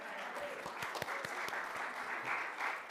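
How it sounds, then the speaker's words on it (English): An audience claps together at a candle-lit gathering, producing a brief, fairly quiet patter of scattered hand claps that lasts a few seconds. "That gets my applause."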